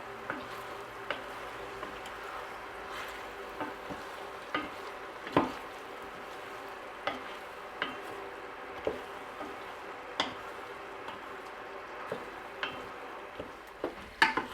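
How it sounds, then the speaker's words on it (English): Peppers sauté in a pan for Portuguese seafood rice with a soft, continuous sizzle. Regular light clicks and taps of a utensil stirring against the pan sound through it, close and fairly quiet. "now we put in the peppers and saute them for about maybe two minutes or so"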